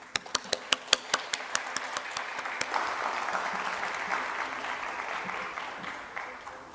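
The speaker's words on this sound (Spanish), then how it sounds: "Vamos a recibir a la doctora Soledad con fuertes aplausos" Conference audience at a mathematics education plenary session applauds: a few sharp isolated claps at first, then swelling into sustained clapping across the room before tapering off.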